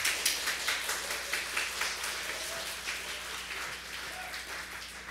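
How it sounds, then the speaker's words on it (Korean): Scattered applause from a church congregation during a Friday sermon, a quiet, fairly distant patter of hands clapping steadily for about five seconds, with no speech over it. "박수."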